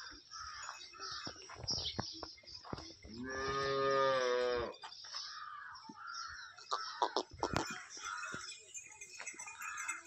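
A freshly calved Holstein Friesian cow gives one long, loud moo near the middle, with bird chirps and other farmyard sounds around it.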